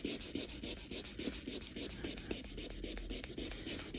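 Very fine grit sandpaper rubs over a 51-year-old Honda moped sprocket in quick, even back-and-forth strokes, close and continuous for several seconds.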